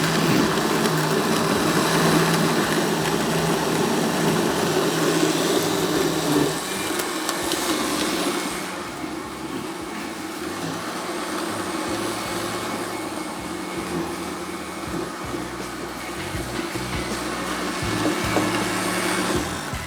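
A home grinder machine runs loudly, blending thick mamtu and apricot juice with a steady whirring drone that shifts pitch and eases slightly partway through, running on continuously with no talk.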